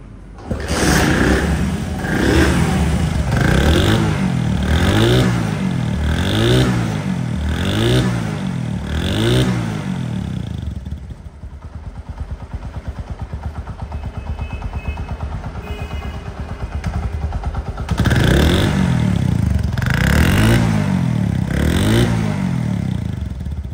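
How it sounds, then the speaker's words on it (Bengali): A Honda CD 80 motorcycle engine runs close up after a kick start, with rhythmic revving pulses, dips to a quieter idle with clattering, then revs up again. "এটা এক কিকে স্টার্ট হবে, এক কিক"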